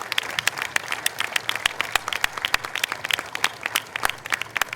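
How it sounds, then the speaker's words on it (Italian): A concert audience in Jesolo applauds the Orchestra Classica del Veneto steadily, many hands clapping in a dense, lively patter that carries on without pause. "Un altro grande applauso all'Orchestra Classica del Veneto"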